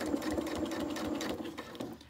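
Sewing machine stitching a seam on tailored suit trousers being let out at the waist, a quiet, fast, steady rhythmic stitching run that slows near the end.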